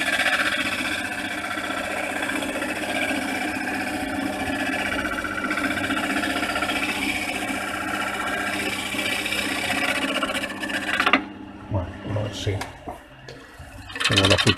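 A bowl gouge cuts wood on a lathe, a continuous rough rasping and rubbing with motor hum for about eleven seconds, then stops as intermittent scraping, knocks and a voice follow.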